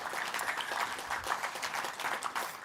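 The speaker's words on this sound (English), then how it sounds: "a round of applause for Carmen and her incredibly hardworking team at the Craft Council." An audience applauds at a craft award ceremony held by a provincial craft council. The clapping is dense and continuous, moderately distant and steady throughout.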